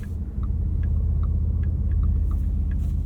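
A 2024 Porsche Cayenne Turbo E-Hybrid Coupe engine pulling out of a corner: a deep, steady low rumble filling the cabin, with faint ticking sounds scattered over it and no talking.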